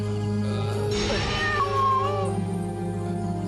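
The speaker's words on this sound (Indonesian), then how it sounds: "Cuma ada kucing hitam di depan pintu." A black cat meows once in a drawn-out, wavering call near a front door, heard close over a steady hum with no talk.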